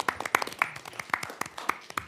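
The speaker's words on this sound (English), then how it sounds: "Give her a cheer." An audience at a board meeting claps in appreciation of a report, with a quick burst of uneven, overlapping hand claps that is close, moderately loud and continuous.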